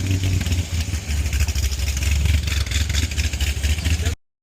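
A Corvette C6 Z06 with its exhaust valves open idles with a deep, lumpy, loud burble from a bigger cam, steady and close for about four seconds before cutting off abruptly.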